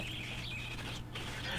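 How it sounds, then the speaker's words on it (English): Distorted bird calls from the Harvest Moon DS game are a wobbling, synthetic chirping tone that drops out briefly before resuming, over a steady low hum. "That bird's not okay. There's something very, very wrong with that bird."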